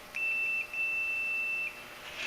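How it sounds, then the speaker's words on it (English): A steady electronic multimeter continuity beep sounds for about a second and a half with a brief gap, clear and alone against a quiet background. "When I touch those 2 connectors together, I should get a beep."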